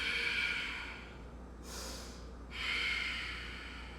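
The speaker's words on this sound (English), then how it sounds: "And breathing in through the nose, out through the nose." Slow breathing through the nose during a beginner yoga session, one soft inhale and exhale against a quiet background with a faint steady hum. No voices.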